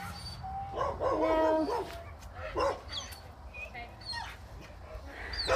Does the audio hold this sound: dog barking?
yes